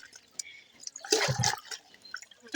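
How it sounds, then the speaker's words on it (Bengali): Cut potatoes are rinsed in water outdoors by a pond, a short burst of sloshing and splashing in the middle of a quiet stretch, with a voice faintly nearby. "একটু ধুয়ে নিলাম"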